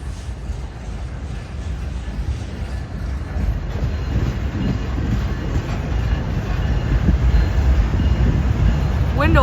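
Norfolk Southern intermodal freight train rolling past nearby, a loud continuous rumble of wheels and cars that builds slightly as it goes, with faint squeals near the end.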